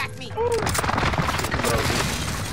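Dense, continuous gunfire in the Call of Duty Vanguard Warzone video game on the Caldera Rebirth map, a steady rattle of shots filling the whole stretch with game voices and talk mixed in.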